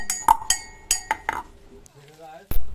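Elephant apple is crushed in a bowl with a run of sharp clinking knocks, roughly five in quick succession, then a pause and one more loud knock.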